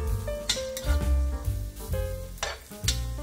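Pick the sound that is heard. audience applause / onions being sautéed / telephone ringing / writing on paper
onions being sautéed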